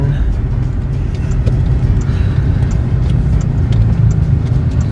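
A car cruising slowly through crowded city streets while hunting for a parking spot, with a steady low engine and road rumble throughout and a voice talking over it.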